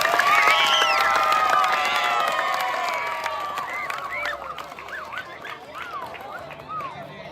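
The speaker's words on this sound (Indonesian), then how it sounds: "Oke, tepuk tangan untuk Pak Laya." Crowd applause at a Balinese temple ceremony gathering, steady clapping mixed with scattered shouts and whistling tones, loudest at the start and gradually thinning and fading over several seconds.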